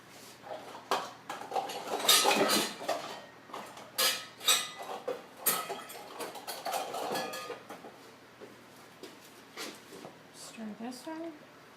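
A spoon clinks and scrapes in a bowl of mix with dark chocolate cocoa, irregular taps and swirls close by, with a soft voice briefly at the end.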